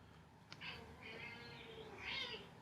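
A cat waking from a nap lets out a few soft, drawn-out meows at close range, rising and falling over a quiet room background with no talking.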